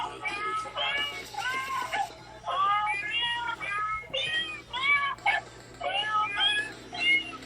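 Musical birthday card playing a recorded cat meow tune, a run of repeated meows in a sung, tuneful pattern, fairly close, with a steady hum beneath.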